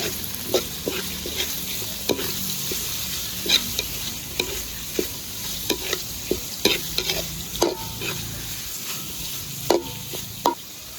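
Grilled pork fat for caldereta sautés in a pan, a steady close sizzle broken by repeated scraping and tapping of a stirring spoon, with no one talking.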